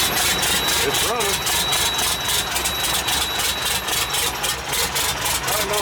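International DT466 diesel engine running after an in-frame rebuild, a loud, close, rough idle with rapid rhythmic pulsing knock, not yet firing on all cylinders, with a voice speaking briefly over it.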